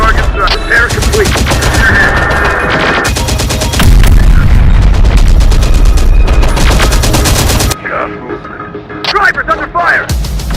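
Sustained automatic gunfire and explosions from the video game Terminator Dark Fate Defiance, dense and loud throughout, with voices of radio-style in-game chatter mixed in; the barrage drops out near the end, leaving sparser shots.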